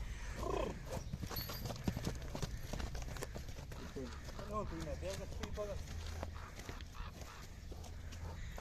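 Percheron horses' hooves clip-clop at a trotting pace on hard ground, with a horse whinnying partway through and people talking in the background.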